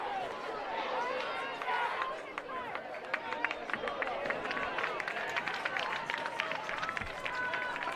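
Fans clap and cheer in the stands at a boys varsity high school lacrosse game between Pittsford and Victor, a steady distant wash of applause and crowd noise that runs throughout.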